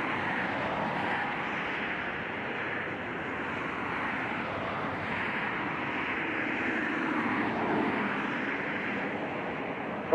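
Airliner taking off from runway 26 right at Ontario International Airport, a sustained jet engine roar heard from a distance that swells gently and stays steady, with no voices.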